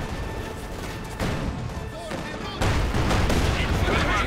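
A StuG G assault gun in a war video game fires rapidly on an infantry squad, dense rattling gunfire and blasts building in loudness in steady layered bursts, with a voice talking over it.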